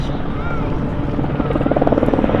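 A Sea King helicopter at the Midlands Air Festival fills the air with a steady, loud rotor and turbine roar, the blade thump building toward the end while a commentator's voice carries faintly over the public address.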